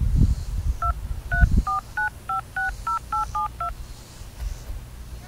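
A string of telephone keypad touch-tones entering an account number on an automated phone line, about ten evenly spaced beeps in a steady rhythm, clear and close, following a few low bumps at the start.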